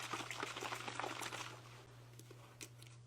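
A spray bottle holding a 50-50 mix of Big Top and water is shaken, giving a rough sloshing rattle in quick bursts over a steady low hum, then fading quieter.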